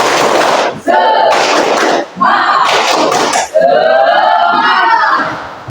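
A school class performs the 'tepuk semangat' chant, loud young voices shouting rhythmic phrases in unison, broken by brief pauses and punctuated with sharp claps and thumps, close and energetic.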